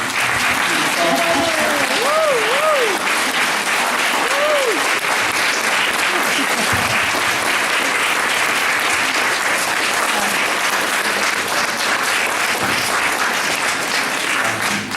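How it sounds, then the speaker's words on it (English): Sustained, dense applause fills the room after a concert and talk on Okinawan identity and languages. It stays loud and steady throughout, with a few brief whoops or cheers rising near the start. "We have one more round of applause, please."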